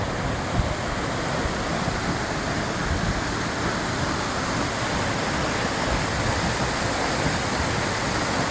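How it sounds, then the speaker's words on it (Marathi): A steady, full roar of falling water from the Kataldhar waterfall near Rajmachi runs unbroken throughout, dense and close, with no voices over it. "कातळधारचं जे मेन पाणी याचा वॉटरफॉल आहे तो"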